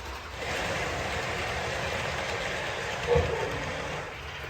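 A small model train runs steadily with a soft continuous rumble and hum, a brief clunk partway through, no voices.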